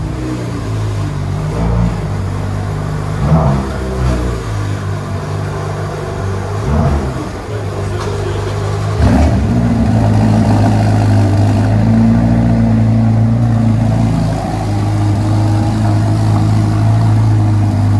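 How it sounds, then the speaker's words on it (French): Ferrari Portofino M engine starting and revving inside a car dealership, loud and echoing off the showroom walls, with a steady rumbling idle broken by several sharp blips of throttle. "il y a la Portofino M qui va démarrer aussi"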